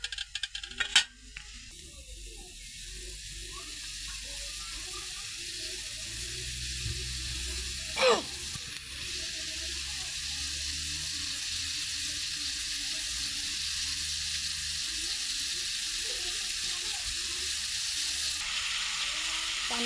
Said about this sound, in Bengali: পানিটা ফুটে গেছে